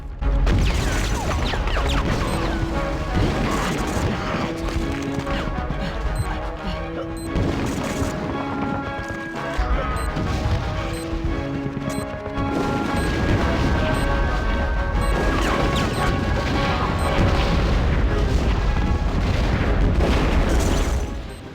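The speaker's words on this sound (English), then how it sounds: "you need to aim your large, extremely heavy bazooka at 9 well-placed teddies out here" A heavy bazooka fires with repeated booming explosions in the Nintendo 64 game Conker's Bad Fur Day, loud and dense throughout, layered over game music and continuous action noise.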